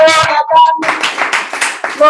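Audience applause at a joint AET and ALYSMA Toastmasters club session, held at the Amicale des AET headquarters, breaks out after a short spoken phrase and then continues as steady, dense clapping from a roomful of hands.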